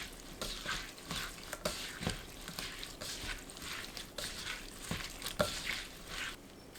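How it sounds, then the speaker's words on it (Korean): Wet squishing and patting as cucumber and cheongyang chili peppers are tossed by hand with seasoning of garlic, soy sauce, plum syrup and sesame oil, in steady close irregular pulses. "오이, 청양고추 넣고 버무립니다."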